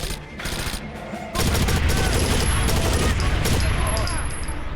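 A light machine gun fires a long, continuous burst in a roughly 20-year-old video game, loud and dense after a short lead-in, while a player talks.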